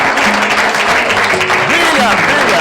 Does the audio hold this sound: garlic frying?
no